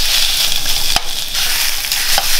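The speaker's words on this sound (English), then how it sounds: "So we need to cook these snags." Sausages cooking on a hot plate for an Australia Day snag sizzle hiss steadily and loudly, broken by a couple of sharp pops, with no one speaking.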